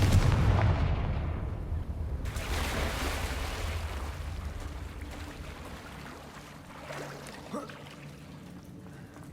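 A Confringo fire spell explodes in Hogwarts Legacy: a loud, close booming blast that opens the sound, a second burst about two seconds later, then a long rumbling tail that fades away.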